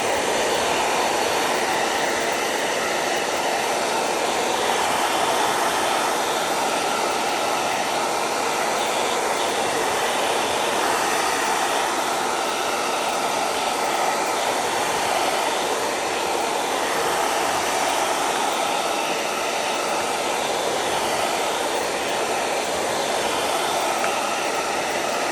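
A handheld hairdryer blows a steady, loud, unbroken roar for the whole stretch while it dries a gel plate print made with torn magazine images, with no voices over it.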